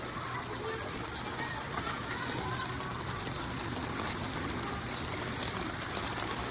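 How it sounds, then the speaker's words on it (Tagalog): Steady rush of river water in a trash-choked, knee-deep waterway at San Mateo, Rizal, a broad continuous wash of flow and trickle with no clear speech. "Ang tubig."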